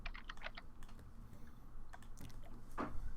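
Keys clatter on a computer keyboard in scattered bursts of clicks, fairly faint and close against a low background hum, with no talk over them.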